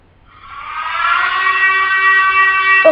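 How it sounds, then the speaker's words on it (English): Siren sound effect from the Silent Hill video game, a loud wailing tone that rises from silence and holds a steady harmonic drone, alone with nothing else behind it. "if you've heard the game of Silent Hill, then this is a siren that seems to be on there"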